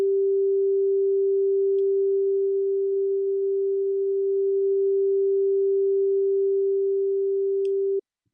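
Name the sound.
tone panned from center to right and right to left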